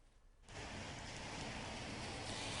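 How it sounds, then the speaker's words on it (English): Steady outdoor rain in winter weather starts suddenly, then holds as an even, moderately loud hiss and patter with no talking. "Ayla, you're still seeing rain at last check"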